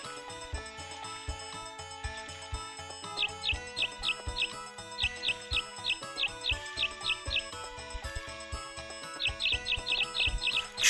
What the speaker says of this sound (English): They are louder than anything else in this game.